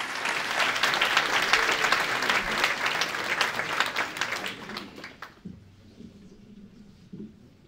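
Warm applause at a ceremonial key handover after the renovation of a technical school in Villach, a dense crowd clapping steadily for about five seconds before stopping abruptly, followed by a voice speaking.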